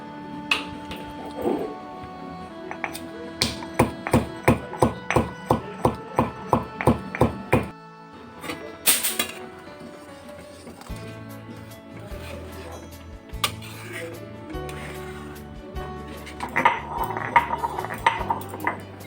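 Cardamom pods are ground into powder in a small kitchen grinder, with rapid rhythmic clattering knocks building into a whirring buzz, then lower grinding rumbles and scattered clinks, close and fairly loud.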